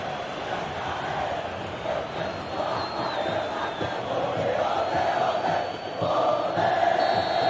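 A big stadium crowd roars after a Cruzeiro football goal, a dense swelling wall of cheers and chanting that grows louder toward the end, with no clear speech on top.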